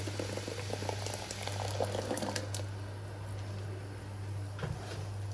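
Tomato sauce for a vegetable tajine simmering in a pot while it is stirred from the bottom up, a soft steady bubbling over a low constant hum with a few light scraping knocks.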